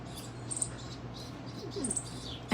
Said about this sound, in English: This one's a chipping sparrow, and the one perched is a song sparrow.